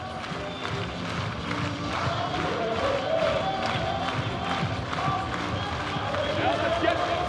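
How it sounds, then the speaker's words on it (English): Tailgate crowd at an outdoor firefighters-versus-tailgaters event clapping along to music, a steady dense wash of hands and cheering under a voice leading the crowd. "Get those hands up. And let's clap those hands."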